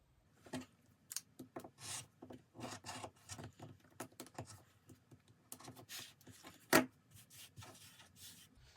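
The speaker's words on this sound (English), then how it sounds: "It's very seldom that I have to use this one, this trimmer." A fabric trimmer cuts a quilt block in quick, uneven scraping and snipping strokes, close and quiet, with one sharper click partway through.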